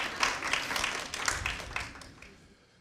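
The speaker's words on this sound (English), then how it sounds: "Then give yourselves a round of applause for putting up with the traffic to get here." A small lecture audience at a talk on combating Islamophobia gives itself a short round of scattered applause, loose individual claps that fade out within three seconds.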